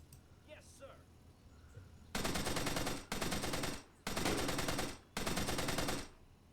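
Four loud bursts of video game gunfire from long-range weapons, each about a second long with short gaps between, following a quieter stretch with faint background voices.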